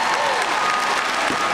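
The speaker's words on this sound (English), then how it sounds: "Let's give her another round of applause." A commencement crowd at Southern University and A&M College gives another round of applause for a keynote speaker, a loud, dense, continuous wash of clapping throughout.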